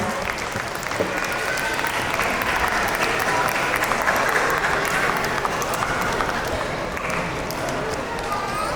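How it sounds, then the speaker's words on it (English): Sustained applause from parents at a school annual day awards ceremony, steady dense clapping filling the whole stretch at moderate level, with faint voices underneath. "Parents, a big round of applause to all the kids."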